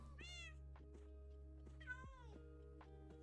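Two distinct meows from a black cat in Minecraft, one early and one midway, close and clear above a steady bed of mellow lofi music and faint clicks.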